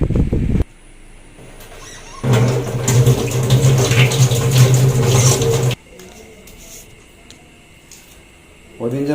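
Tap water runs steadily in a home kitchen while fruit is washed under it, a broad rushing band lasting a few seconds between quieter stretches with household background noise.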